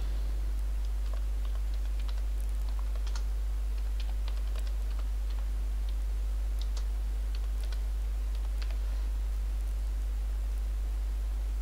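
Question being typed on a computer keyboard, quick light key clicks tapping irregularly throughout, close and fairly soft over a steady low hum.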